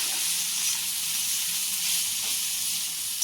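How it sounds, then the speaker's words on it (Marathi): Crushed cluster beans, green chillies and garlic paste sizzling in hot tempering oil in a kadai, a loud, steady hiss that continues without pause. "जो आपण खलबत्त्यात कुटून घेतलेला तो गवार हिरवी मी लसणाचा जो पीठ आहे तो या तेलावर घालून छान असा परतून घ्यायचा आहे"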